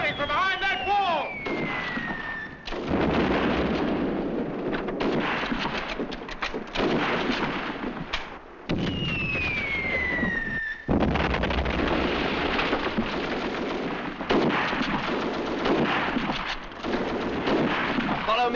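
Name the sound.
gunfire in war movie scene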